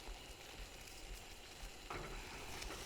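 Garlic powder and onion powder stirred into a chicken pot pie filling in a pot, a soft faint sizzle and scraping stir that gets a little louder near the end.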